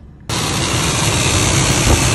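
A Ford 5.4L Triton V8 fires up after an ignition coil replacement and settles into a loud, steady, slightly rumbly run that continues without a break to the end.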